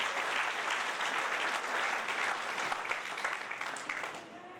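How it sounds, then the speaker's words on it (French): A church congregation at a united Sunday worship service claps together, a dense, sustained round of applause that stays strong for a few seconds before gradually thinning and fading toward the end. "Nous demandons applaudissements à la gloire de Dieu."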